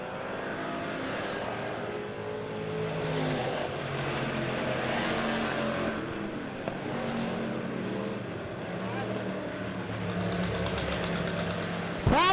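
Race car engines at Monett Motor Speedway during a full race event, a continuous roar rising and falling as cars pass, heard from a distance with a faint announcer under the noise.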